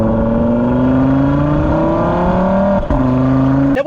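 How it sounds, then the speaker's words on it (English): An Audi RSQ3's turbocharged five-cylinder engine revs loudly up the range, its tone rising steadily before a brief gearshift dip and a renewed climb, up close and without speech. "The engine, even though it's a special 5-cylinder turbocharged motor"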